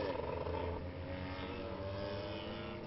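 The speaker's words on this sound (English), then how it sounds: "Listen to that car." A race car engine roars steadily at high revs at Orange Show Speedway, a continuous loud mechanical drone with a slight pitch shift as it passes, no talk over it.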